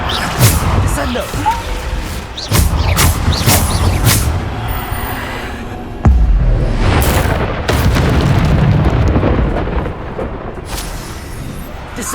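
Spell impacts in the Hogwarts Legacy video game, heavy booming blasts and rumbling crashes in quick succession, loud and close, with a player talking over the game sounds.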